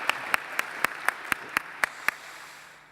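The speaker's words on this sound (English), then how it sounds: "Round of applause." A small crowd at a tech launch event for the RChain testnet gives steady, evenly spaced claps, about nine crisp hits in a slow rhythm, close and fairly loud, ending in quiet room tone.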